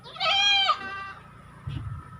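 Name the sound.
goat bleating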